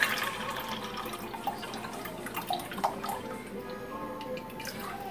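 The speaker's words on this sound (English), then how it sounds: "I'm going to drain each can into here." Liquid trickles and drips as pineapple juice drains from cans into a container, a soft steady pour in a home kitchen with no talking.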